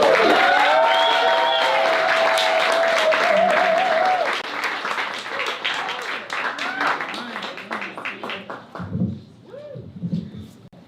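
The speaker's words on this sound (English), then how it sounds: "Big round of applause for Nikki." Loud crowd applause with cheers and whoops greets a performer at a local gala fundraiser, strong at first, then thinning into scattered claps and chatter as a voice begins speaking near the end.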